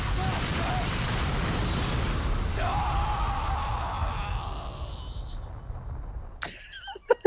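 A video game character lets out a loud, drawn-out scream over dense game noise, which fades before a few sharp impacts at the end.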